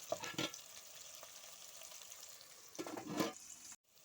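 Tomatoes cook in a pan with a soft, steady sizzle, while faint scraping stirs come through at the start and again near the end before the sound cuts off.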